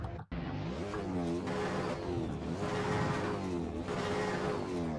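Engine of a Camaro race car in Assetto Corsa at Phillip Island roars and revs continuously, climbing and shifting pitch through gear changes, loud and close with no talk.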